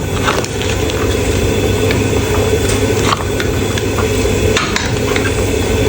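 Continuous stirring and scraping of seasoned food in a sizzling pan, with steady frying noise and occasional clinks of a utensil throughout.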